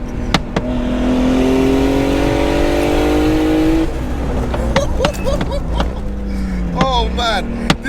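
Turbocharged BMW E36 323i, a budget build making 403 bhp, pulls hard in second gear after a downshift, its engine note rising steadily and loudly up the revs before easing off, with someone talking and whooping over it.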